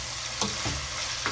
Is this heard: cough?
no